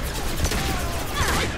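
A gunshot in the video game Mass Effect 2, set on Korlus near a friendly Krogan, heard as loud sharp blasts within a busy, noisy game soundscape.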